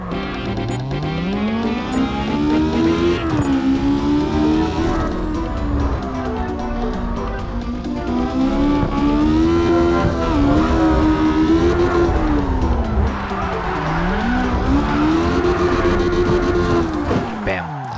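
Tuned car drifting in the CarX racing game, a loud continuous engine note rising and falling as revs swing through long slides, with someone talking over it throughout.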